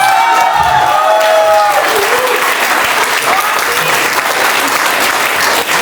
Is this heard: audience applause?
yes